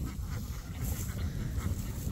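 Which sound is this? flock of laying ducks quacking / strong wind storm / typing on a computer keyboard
flock of laying ducks quacking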